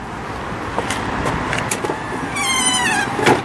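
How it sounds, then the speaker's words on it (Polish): Electric entry steps of a 1996 Hymer camper on a Fiat Ducato base extend with a whirring motor hum that rises into a higher whine toward the end, close and fairly loud, with a few faint clicks. "Schody są uruchamiane tym przyciskiem."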